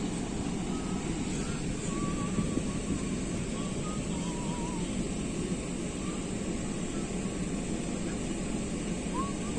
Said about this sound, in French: Vous voyez les vagues qu'il y a dans le lagon.